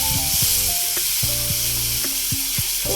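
Onion and tomato frying in a pan, a strong, continuous sizzle with stirring scrapes and clinks of a utensil against the pan, close up and without talk.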